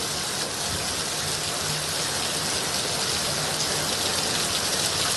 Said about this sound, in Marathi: अजूनही मुंबईतल्या काही उपनगरांमध्ये भागामध्ये रिमझिम पाऊस